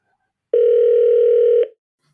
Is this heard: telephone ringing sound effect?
yes